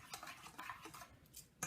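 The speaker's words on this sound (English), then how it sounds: "Then we will mix the dry ingredients." A spoon clinks and scrapes in a bowl while flour and salt are mixed for unleavened communion bread, with quiet, irregular taps and a louder knock at the end.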